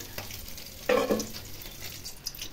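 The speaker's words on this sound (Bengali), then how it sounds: "এখন নেড়ে চেড়ে নামিয়ে নেব।" Small fish curry with winter vegetables is stirred in a pan on a switched-off gas flame, giving one short scraping, faintly sizzling stir of about half a second against a quiet background.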